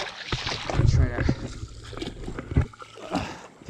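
Feet wade and splash through shallow river water during an early-morning fishing trip, with irregular sloshing steps, a couple of heavier plunges, and a voice speaking alongside.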